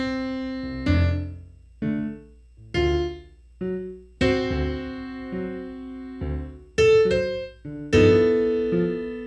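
A solo piano plays a slow-swing jazz ballad, with spaced chords and bass notes ringing out and decaying between gently lilting phrases, unaccompanied and with no speech.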